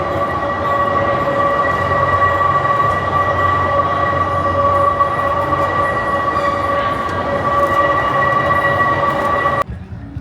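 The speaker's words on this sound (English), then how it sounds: "It's just the eerie churning of gears that you hear while riding this carousel." Steady mechanical churning and humming of carousel gears at an amusement park, the ride running without its organ music; several sustained whining tones sit over a constant low rumble, loud and continuous, cutting off near the end.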